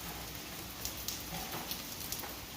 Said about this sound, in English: it looks like the rain has lightened up a little bit.